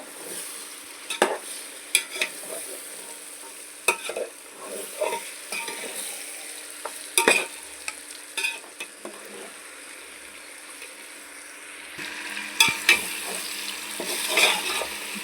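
Country chicken curry with cloves and cinnamon being stirred in a frying pan: a soft sizzle runs under sharp, intermittent scrapes and clinks of the spoon against the pan, close and uneven.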